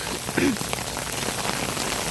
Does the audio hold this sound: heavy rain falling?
yes